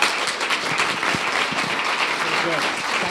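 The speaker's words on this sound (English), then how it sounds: "We'll have a big, big round of applause for Will and Janet" A forum audience on functional medicine and psychiatry gives a dense, steady round of applause that fills the room, with a voice faintly talking over it.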